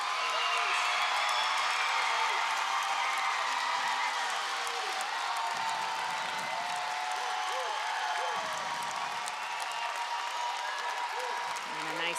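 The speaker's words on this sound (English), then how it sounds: "The crowd is going nuts because Evany Roberson just put up a 10 on beam" A college gymnastics crowd roars with sustained cheering and applause after a perfect 10 on beam, a dense, steady wash of noise that fills the arena, with a commentator talking over it.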